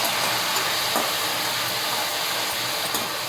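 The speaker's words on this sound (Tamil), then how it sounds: "அடுப்பை கொஞ்சம் கூடவே வச்சு நல்லா வதக்கிக்கோங்க" Curry leaves and masala are sautéed in a pan over high heat, producing a loud, continuous hiss with a few faint clicks under it.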